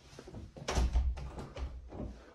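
The front door of a house swings open, a few soft handling knocks and a dull thump followed by quieter shuffling and footsteps, close by and fairly faint.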